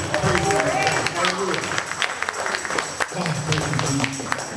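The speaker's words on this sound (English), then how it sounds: "Can we give God a hand clap of praise?" A church congregation claps and cheers loudly and continuously in praise, with voices calling out over the steady applause.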